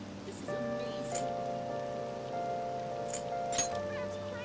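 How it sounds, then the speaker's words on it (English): Rain in the video game Persona 5 Royal, a soft steady patter underneath sustained musical tones from the game, with a few brighter splashy accents. "Oh, this rain is so annoying."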